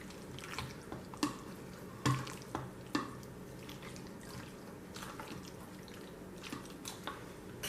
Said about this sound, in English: Let me stir in this milk.